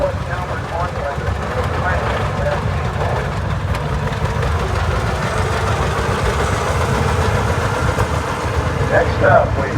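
An Allis Chalmers tractor idles in an outdoor tractor parade at a show, a steady low engine rumble running throughout, with a voice talking over a loudspeaker on top of it.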